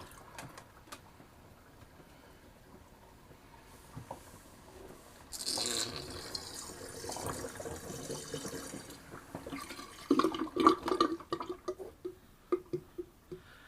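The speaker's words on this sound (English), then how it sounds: "I'm going to drain the old Sea Monster sink." Water drains from a sink after a shaving brush and bath product are rinsed: at first faint and quiet, then a gurgling rush swells halfway through, followed by uneven sloshes and spurts near the end.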